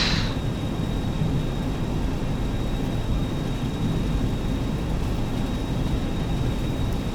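Boeing 737-200 jet engines at full takeoff thrust in the X-Plane 11 flight simulator: a steady, loud broadband roar with low rumble, holding constant throughout after a brief higher hiss at the start.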